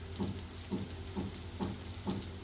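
Slices of brinjal and potato frying on a tawa give off a steady, soft sizzle close by, with faint regular scraping or stirring pulses about every half second and no voices.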